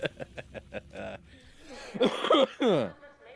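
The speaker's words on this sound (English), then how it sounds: "Still getting over this cough." Short bursts of chuckling give way to a raspy, wheezing cough, a few harsh breathy hacks up close.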